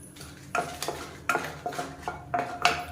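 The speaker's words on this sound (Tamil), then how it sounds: "இப்போ எண்ணெய் சூடானதும் ஒரு 6லேருந்து 7 வரமிளகாய் சேர்த்துக்கலாம்" Dried red chillies sauté in hot oil in a pan for tomato chutney, heard as a soft sizzle under several clinks and scrapes of a stirring spoon against the pan.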